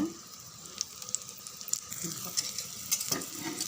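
Instant dosa cooking in oil on a pan over medium heat, a soft, steady sizzle with a few faint clicks and light scraping taps scattered through it, fairly quiet and close, with no talking.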